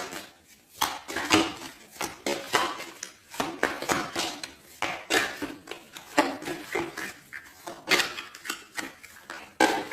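A tarot deck is cut and handled for a reading, making a dense run of quick card flicks, taps and soft slaps, close and fairly loud, with no talking.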